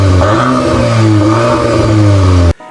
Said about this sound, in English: those signature quad exhaust tips that sound